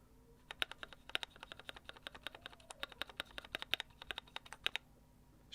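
Keys are typed on a custom GMMK Pro mechanical keyboard, a crisp, close run of clacky strokes in an uneven rhythm. The keystrokes sound alone, with a brief pause near the end.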